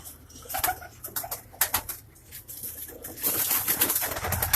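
A Rampuri pigeon at a pigeon keeper's loft coos in low repeated phrases close by, with sharper bird chirps and rustling scattered through, growing busier toward the end; no one speaks.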